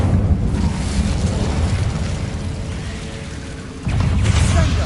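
An Incendio fire spell in Hogwarts Legacy bursts with a roaring, rumbling whoosh of flame, steady and loud, then a second surge of fiery blast near the end.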